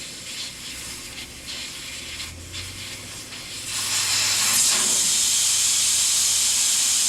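Air hisses out of a tire with its valve stem core removed, during a home bead-breaking job. A quiet stretch gives way partway through to a loud, steady, continuous hiss that holds to the end.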